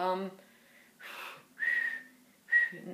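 A few short, airy inward-whistled notes sound close by, with brief pauses between them and a faint breathy quality, quiet overall.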